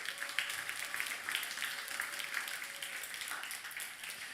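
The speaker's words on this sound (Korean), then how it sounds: "우리 고생해주는 우리 찬양팀을 향해서 우리 박수 한번 할까요?" A church congregation applauds its worship team, a soft, steady patter of many hands clapping heard from some distance in a large room.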